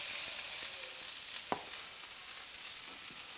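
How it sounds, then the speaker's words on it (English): Steady hissing sizzle of chopped vegetables frying in hot oil, with a few faint clicks and one sharp tap partway through. "the sizzling sound. You see, we waited for the oil to get hot."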